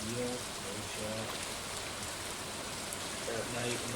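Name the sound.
rain at night on the beach in video game Stardew Valley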